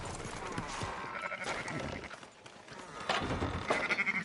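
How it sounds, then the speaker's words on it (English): Sheep bleating in the video game Red Dead Redemption 2, a few short calls rising over an ambient farm background with distant clatter and brief talk nearby. "Fine sheep."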